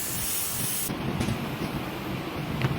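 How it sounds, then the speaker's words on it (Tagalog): Adhesive sprayed from a spray gun onto sofa foam and upholstery fabric, a steady loud hiss lasting throughout with a brief change in tone partway through, and no voices. "Tsaka ayan na po ang foam, in-spray din natin."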